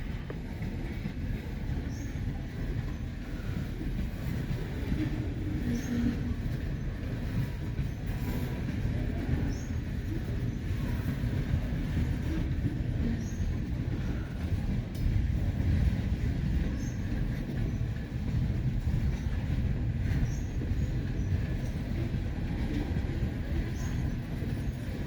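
Heavy loaded freight train rumbling past at close range, a continuous deep roar with rhythmic wheel clatter and faint squeals throughout.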